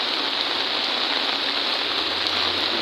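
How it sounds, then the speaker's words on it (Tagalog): Rain falls on a flooded street, a steady, dense hiss of drops and running water close by, even and unbroken with no voices. "humina yung ulan na"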